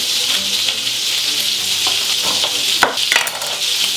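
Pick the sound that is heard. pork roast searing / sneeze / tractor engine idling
pork roast searing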